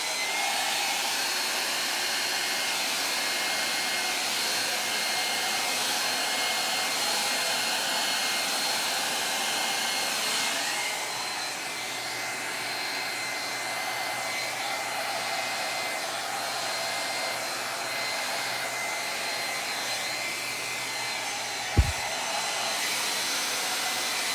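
A hair dryer blows steadily across white acrylic paint during a Dutch pour on a large canvas, a continuous close whirring airflow with one brief sharp click near the end.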